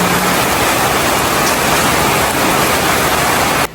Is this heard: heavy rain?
yes